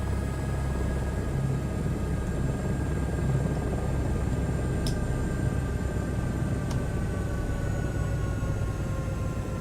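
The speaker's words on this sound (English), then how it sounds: "turning the helicopter off." An H125 helicopter winding down during shutdown in a flight simulator game, a steady low engine and rotor drone with faint high whining tones, constant and fairly quiet throughout with no talking.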